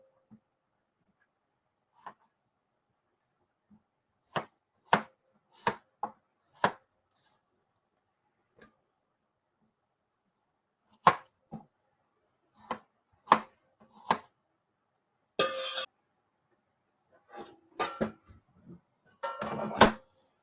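A knife cuts the green tops off fresh strawberries on a board, a series of sharp, close, isolated chops in irregular clusters, with a few scraping slices near the end and no talk.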